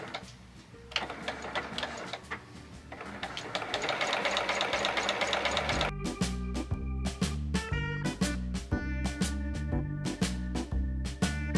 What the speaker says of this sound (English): I'm sewing right before it so I can enclose it